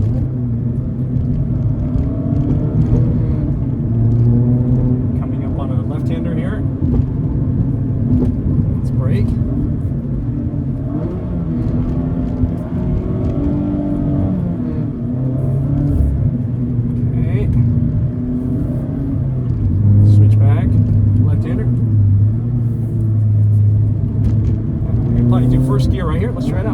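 Engine drone from inside a 2022 Mazda MX-5 Miata RF Club Package with Recaro seats, BBS wheels and Brembo brakes, driven on a winding canyon road. The steady rumble rises and falls under continuous talking.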